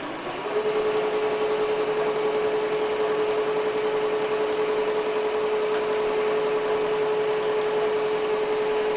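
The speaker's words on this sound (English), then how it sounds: "put this back on the machine so we get her stitched out" An embroidery machine stitches out a reverse appliqué design in a steady, continuous mechanical whir with a constant hum, close and alone for the whole clip.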